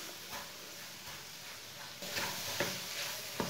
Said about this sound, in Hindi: सूजी को थोड़ा सा भून लेंगे इधर ही।